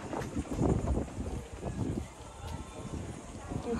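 Gusty wind buffets a rooftop pool deck by the beach, a steady rough rumble of breeze on the microphone that rises and falls throughout.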